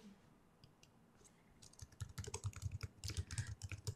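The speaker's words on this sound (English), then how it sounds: "I'm typing here." Fast keystrokes clatter on a computer keyboard, with a quiet lead-in and then a dense, rapid run of close, crisp key clicks and no voices.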